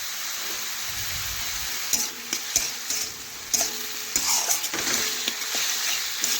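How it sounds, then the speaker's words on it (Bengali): Dal masala sizzling in a pan for vegetarian dal, with a steady hiss broken by repeated scraping strokes of a spoon as it is stirred, close and moderately loud, no voices. "একটু ভেজে কষে নিয়েছিলাম আর একটু আমি জল দিচ্ছি, দিয়ে আবারও বেশ কিছুক্ষণ ধরে দেখুন আমি এইভাবে রান্না করে নেব"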